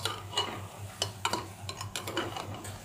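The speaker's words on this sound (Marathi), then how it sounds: "आता मी हा तांदूळ टाकून मिक्स करून घेते सगळं" Rice and masala being stirred in a pot, with repeated scraping and clinking strokes of a spoon against the metal over a low steady hum, close and fairly quiet.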